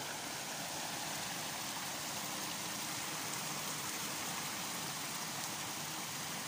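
Waterfall in a garden forest at Ban Rai Wang Phayom, running high with reddish water after rain, heard as a steady broadband rushing roar with no break from start to finish.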